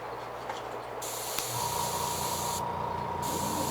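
An airbrush sprays paint onto a black fishing lure in close, quiet bursts of hissing air, with a brief pause between sprays.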